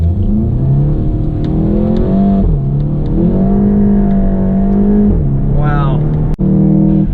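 A Cobb-tuned 2015 Volkswagen Golf GTI, a front-wheel-drive car, accelerates hard with wheels spinning for traction, its engine droning loud and rising through several gear changes, heard from inside the cabin.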